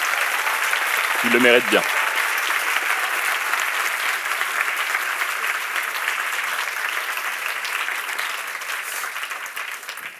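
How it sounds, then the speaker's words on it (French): Sustained audience applause fills a university hall at a local final of the MT180 science talk contest, loud and steady throughout, with a brief spoken remark near the start. "j'aimerais vraiment que vous les applaudissiez vraiment, vraiment fort"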